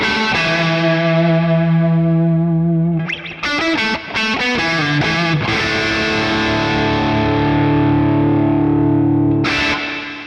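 Electric guitar through a Boss Katana MKII amp, a sustained distorted chord ringing dry, then quick picked notes and a chord washed in heavy delay and reverb, loud and alone with a long trailing tail.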